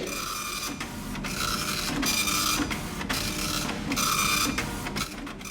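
A printer runs continuously at close range, with a steady mechanical whir broken by regular rhythmic feed strokes and short pauses.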